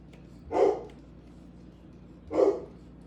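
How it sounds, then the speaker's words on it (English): Two sharp dog barks, a couple of seconds apart, fairly close, with quiet between them. "Sorry about the dogs, guys."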